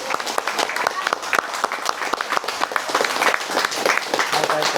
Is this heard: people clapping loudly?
yes